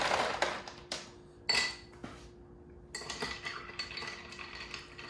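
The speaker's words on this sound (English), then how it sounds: "I'm gonna stir it with a regular bar spoon" Cocktail stirred with a regular bar spoon for an Old Fashioned: soft metallic clinks and scraping against glass and ice, a few louder taps among quieter rattling, close and alone.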